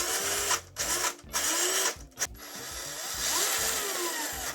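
An HSTAR F150 RC crawler with metal gears runs its motor in low gear. A close, whiny electric drone with gear noise comes in short bursts and stops, then settles into a longer steady run.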